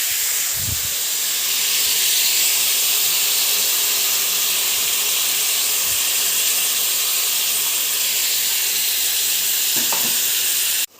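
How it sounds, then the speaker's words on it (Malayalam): Chopped tomatoes dropped into hot oil for a Kerala-style masala tomato curry, sizzling in a steady, loud, close hiss that continues unbroken throughout, with a couple of faint clinks and no talk. "ഇനി നമ്മളിതിലേക്ക് അരിഞ്ഞ് വെച്ച തക്കാളി ഇടുകയാണ് കേട്ടോ."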